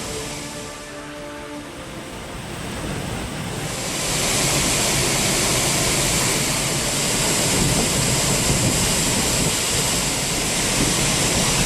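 The flooded Courtallam main waterfall roars with a steady, dense rush of water, swelling louder after a few seconds and continuing as a constant heavy wash with no voices.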